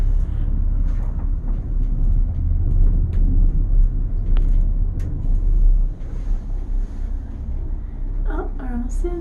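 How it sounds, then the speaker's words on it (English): Wind gusts across a mountain trail high above Lake Tahoe, a loud, steady low rumble buffeting the microphone, with brief voices briefly breaking through near the end. "It's a little breezy up here."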